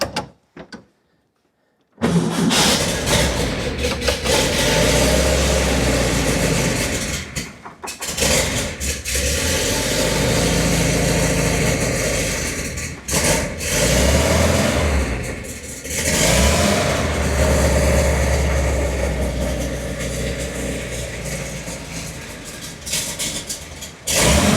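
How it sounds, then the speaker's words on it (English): A roller-crankshaft engine in a 1951 Porsche 356 Sauter Roadster starts up and revs repeatedly, climbing quickly and dropping back, loud and close, with no talking. "That's a roller crankshaft engine."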